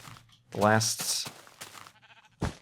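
A Minecraft sheep lets out a short, wavering bleat, fairly loud and close, followed by softer scattered game sounds and a brief sharp burst near the end.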